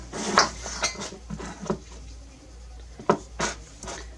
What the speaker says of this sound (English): just cut it in thin slices